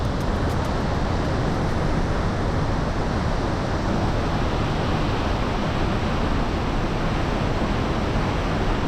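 Waterfall in the Leutasch gorge (Leutaschklamm) roaring at close range, a loud, steady, dense wash of falling water that fills the whole clip without a break.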